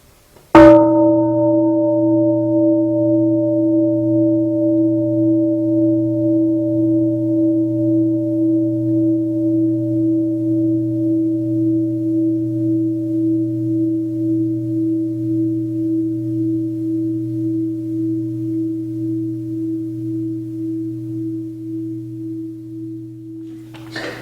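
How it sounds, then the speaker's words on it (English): A single mindfulness bell struck once to open a moment of quiet, its clear, steady tone ringing and slowly fading with a gentle pulsing shimmer for over twenty seconds in silence. "invite a sound of the bell, come home to ourselves for a moment"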